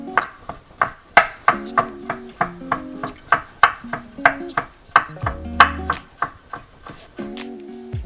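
A cleaver chops down through stacked, flattened planks of noodle dough for Beijing zha jiang mian, steady rhythmic knocks on a board, close and loud, about two per second.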